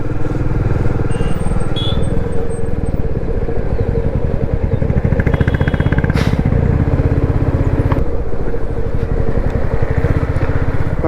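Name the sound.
motorcycle riding through a traffic jam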